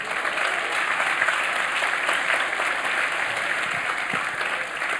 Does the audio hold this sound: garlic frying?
no